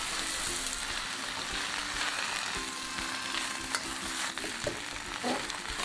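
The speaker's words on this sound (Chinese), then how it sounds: "再下入乌菜翻炒。" Wu cai greens stir-fried in lard with garlic, hissing and sizzling steadily in a hot wok with scattered scraping and stirring clatters throughout, no talking.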